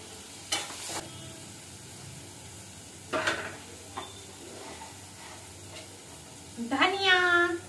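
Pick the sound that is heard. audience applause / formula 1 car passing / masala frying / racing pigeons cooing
masala frying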